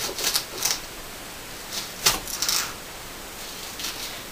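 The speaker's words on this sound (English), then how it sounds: "I'm just going to finish cutting this other one here." A knife chopping a shallot on a cutting board, a few sharp close taps spaced irregularly over a quiet room, with no talking.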